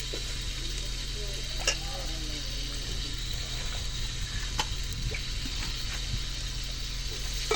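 Onions frying in a pan with cinnamon leaf and fennel seeds, a steady close sizzle with occasional stirring scrapes and clinks throughout.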